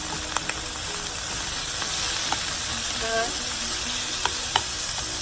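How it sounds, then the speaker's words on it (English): Beef stir-frying in a hot pan for Vietnamese crispy noodles, a dense continuous sizzle with occasional scrapes and taps of stirring, close and steady throughout, no speech. "So now I'm going to stir fry that beef."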